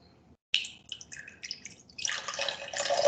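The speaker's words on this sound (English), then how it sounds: "I'm going to pour some of my water." Water trickles slowly from a container into a pan on a tabletop, starting after a brief silence as soft intermittent splashes and then building into a steadier, slightly louder pour.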